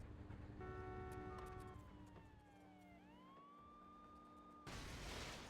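A police car siren in the video game True Crime: New York City wails loudly and continuously, its pitch sweeping down and back up, with engine hum beneath and a burst of noise at the end.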